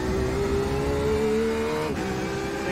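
A 2021 Porsche RSR race car at Daytona in a racing simulator holds a loud, steady high-revving engine whine, then dips sharply in pitch near the end as it lifts off or shifts down.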